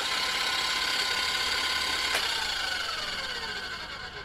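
Stand mixer whirring with a whisk attachment, a steady dense mechanical drone with a faint rhythmic rattle, running continuously and close, easing off slightly toward the end.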